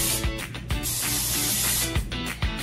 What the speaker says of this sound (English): you can get your cooking spray and spray it into your pan